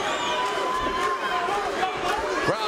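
An arena crowd at a Strikeforce MMA fight chanting the name Luke for middleweight champion Luke Rockhold, a broad rhythmic roar of many voices heard alone.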